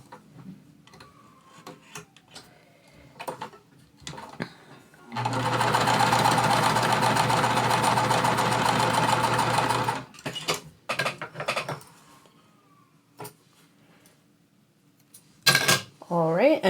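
Sewing machine stitching a quilt block seam for a small lemonade quilt: a steady, close mechanical whir lasting about five seconds, with fabric handling, clicks and light rustling before and after.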